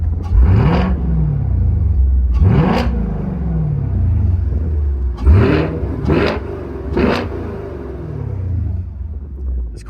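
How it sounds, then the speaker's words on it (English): A Chevrolet Camaro with a manual transmission and the top down is revved in sport mode. There are five sharp throttle blips, each rising quickly and then falling back to a deep idle rumble, loud and close. "This car sounds great, especially at the higher RPMs"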